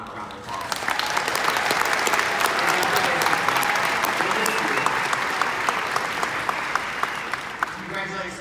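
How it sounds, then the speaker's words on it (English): An audience breaks into sustained applause for a colleague being honored, loud, dense clapping rising quickly and holding steady before tapering at the end, with a voice faintly beneath it. "So can we just all give Donna a round of applause?"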